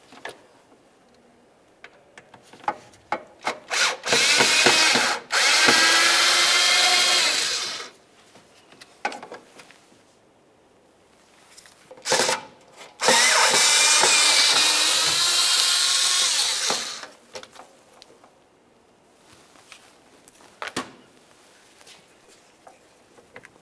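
A power driver backing out the Phillips head screws that hold the fog lamp assembly to the bumper cover of a 2003-2011 Mercury Grand Marquis, two long whirring bursts separated by clicks and handling noises.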